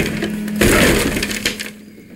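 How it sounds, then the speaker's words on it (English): A guitar is smashed in one sharp, loud splintering crash with wooden breaking and cracking, after a brief steady tone, then a short tail of rattling debris. "She picked up Miguel's guitar and smashed it."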